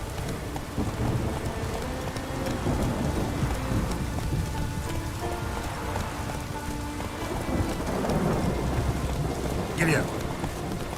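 Heavy rain pours down in The Witcher 3 with thunder rolling through, a dense steady roar of rainfall and low rumbles, plus a brief sharper sound near the end.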